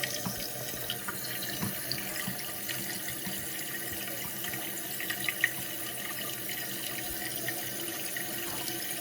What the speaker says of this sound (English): you don't want this water that's filling into the tank to go above or even come close to going above the top of this